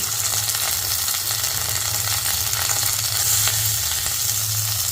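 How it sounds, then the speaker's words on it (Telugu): Onions and green chillies fry in hot oil as the tempering for prawn biryani, making a loud, dense, unbroken sizzle close up with a low steady hum beneath it. "ఉల్లిపాయలండి కొంచెం ఎర్రగా వేగించుకుందామండి."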